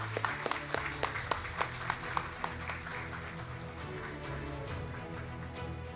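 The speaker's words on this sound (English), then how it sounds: "please join me with a round of applause as we welcome our judges onto the stage" An audience applauds as judges are welcomed onto the stage at a live-streamed startup event, with distinct claps at first that blend into a steady, moderate round of applause under a low hum.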